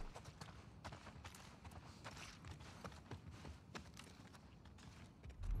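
Steady clip-clop of horse hooves at a brisk pace in the video game The Last of Us Part II, close and fairly loud, with a low rumbling background and no talking.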